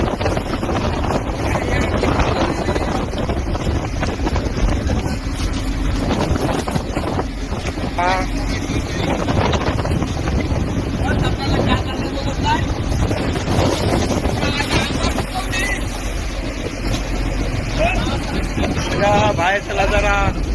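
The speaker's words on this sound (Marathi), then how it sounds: "कशी बोट चालली बघा झाल्यावर." A fishing boat out at sea gives a steady engine drone under heavy wind buffeting, with someone speaking Marathi and other voices chattering over it throughout.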